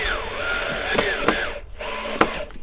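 A Makita power drill works on wood while building a birdhouse, its motor whining in a close, loud stream with speed rising and falling and several sharp clicks and knocks, then a brief stop before it starts again.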